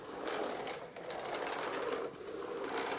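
A BISSELL Natural Sweep dual-brush cordless sweeper pushed across the floor gives a steady whirring, brushing rumble with slight swells as each stroke changes, close and continuous without talk.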